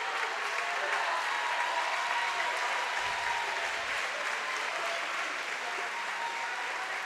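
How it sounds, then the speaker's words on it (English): Sustained crowd applause and cheering from spectators at a high school state basketball game, a standing ovation for a player who has just fouled out, steady and loud for the whole stretch with no pause. "he'll get a standing ovation from the Rector crowd"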